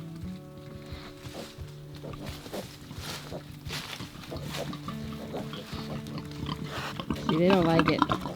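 Piglets huddled together and nursing on a homestead, grunting and squealing in a low, continuous murmur with a louder burst of squeals near the end, under steady background noise.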